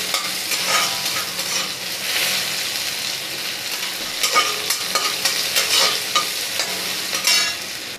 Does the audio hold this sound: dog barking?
no